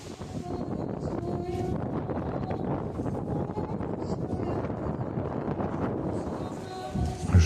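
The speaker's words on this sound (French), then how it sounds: "Il commence à y avoir beaucoup de vent, c'est surtout ça qui est gênant." Strong wind buffeting the microphone on a cold Moscow street at Christmas time, a loud continuous roar that swells near the end.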